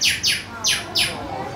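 Parrot at a safari park mimics a cardinal, giving four loud, sharp downward-sweeping chirps in quick succession, close and clear.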